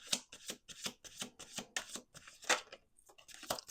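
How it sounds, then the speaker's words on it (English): Tarot cards being shuffled up close, a run of crisp riffling bursts repeated about eight times with short gaps between, loud and alone with no talk. "We're going to do one more shuffle here."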